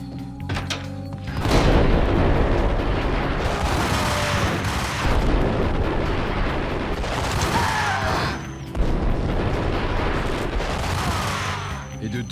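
Ingram submachine gun fire in the Max Payne video game aboard a boat, dense loud bursts of automatic gunfire with booming thuds and clattering effects running almost continuously.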